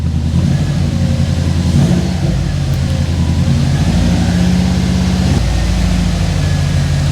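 A freshly rebuilt Subaru WRX engine runs on its first start, a loud, steady mid-range drone with a slight rise and fall in pitch as it is revved gently at low RPM, with no voices over it.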